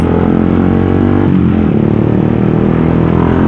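A Yamaha R15 motorcycle with a custom Termignoni racing exhaust revs hard and close, its raspy engine note climbing and holding high without pause.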